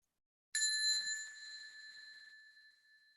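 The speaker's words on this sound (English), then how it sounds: "So we'll end with a little bell ting." A small bell gives a single bright ting that starts sharply and rings out in a clean, slowly fading tone, heard alone in an otherwise silent space.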